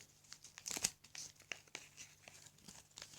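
Packing tape pulled off a taped package, faint close ripping and crinkling bursts at an uneven pace, quiet throughout.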